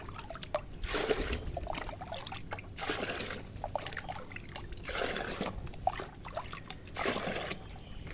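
Plain water splashing and trickling into a bucket, a steady running pour with recurring surges and splashes, fairly close, with no talk.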